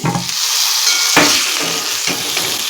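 Stuffed bitter gourd going into a pan of frying coconut and garlic: a loud, continuous close sizzle with a couple of sharp stirring clacks, no voices.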